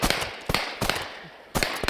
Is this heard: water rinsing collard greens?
no